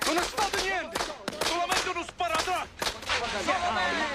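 A string of firecrackers going off in a TV drama scene, sharp irregular cracks popping in quick succession, fairly close and loud, with faint voices mixed in.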